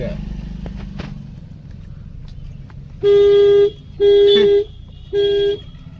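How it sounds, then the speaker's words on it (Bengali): A car horn honks three times on a narrow village road, loud and close, each a sustained blast of about half a second, over a steady engine and road rumble. "না হর্ন দিয়ে যাচ্ছি আমাদের রাস্তাঘাট করে চলে যাচ্ছে"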